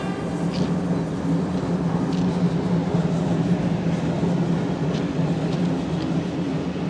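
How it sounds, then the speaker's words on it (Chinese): A freight train rolls past on a century-old cross-border railway in Yunnan in drizzly weather. It gives a continuous, fairly close rumble with a steady mechanical drone and no voices. "来了，这是一趟货运的"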